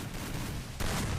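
Gunfire from a shooting video game during an esports elite-league match: a dense, loud burst of shots cuts in sharply partway through, over a steady roar of game noise.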